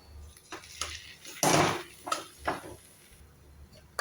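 Mashed potato and onion sautéed in a pan, a few soft scrapes and clinks of a spatula against metal, one louder burst of stirring in the middle, quiet otherwise.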